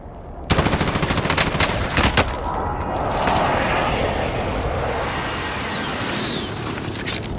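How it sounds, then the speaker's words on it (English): An enemy precision airstrike in the video game Warzone: a loud burst of rapid machine-gun-like blasts, then a sustained roaring rush of aircraft and explosions filling the rest, close and dense. "Enemy precision airstrike."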